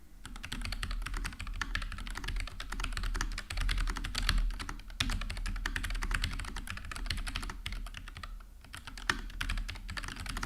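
Rapid, continuous typing on a low-profile keyboard with red switches, light clacking keystrokes in a dense stream, close up, with no voices.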